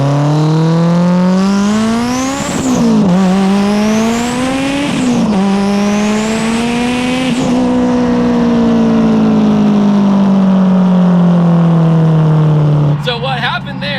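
An 1100 hp Subaru Forester with a stock diff and carbon drive shaft launches hard from a dig, its loud engine screaming through repeated rising rev sweeps with shift breaks, then settling into a long sustained high drone.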